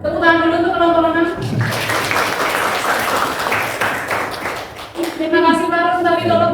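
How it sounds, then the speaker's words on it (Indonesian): Classroom applause for a student group after a presentation, a dense burst of clapping lasting a few seconds between stretches of a voice with clear harmonic tones before and after. "Oke, tepuk tangan dulu untuk kelompok 6."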